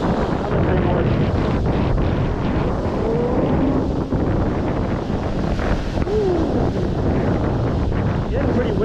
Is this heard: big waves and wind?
yes